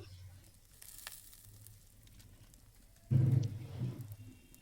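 Ground cumin, coriander and red chili powder hit hot oil with a soft hiss that keeps on faintly, then flares into a louder, close sizzle near the end.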